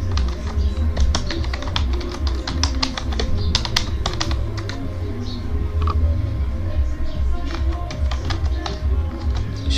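Rapid, continuous clicking of keys on a computer keyboard while text is entered in Photoshop, a close, busy patter of taps with no talk.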